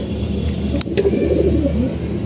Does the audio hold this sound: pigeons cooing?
yes